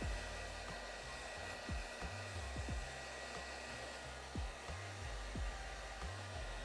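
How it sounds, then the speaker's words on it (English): A hair dryer blows steadily on the lace of a short wig, a close, continuous whooshing roar with a slight warble as it moves, and no talking. "I'm gonna hit it with the blow dryer just to push it away from the lace first"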